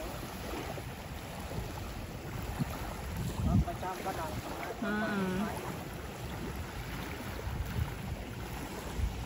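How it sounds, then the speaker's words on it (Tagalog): Boats approach across open water, their low engine drone rising and falling through gusty wind noise and lapping waves, with voices talking at times in the background. "Andun na yung mga bangka"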